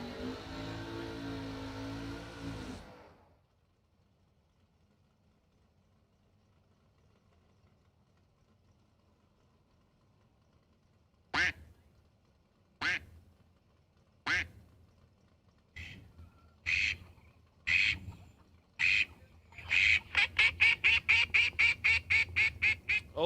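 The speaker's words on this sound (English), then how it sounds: "Oh, that duck's pretty loud." Cartoonish duck quacking sound effect played during a SuperBucks Showdown poker broadcast: after a spoken line and a long quiet stretch, separate loud quacks arrive, then a rapid run of quacks at the end.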